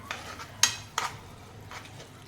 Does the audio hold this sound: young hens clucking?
no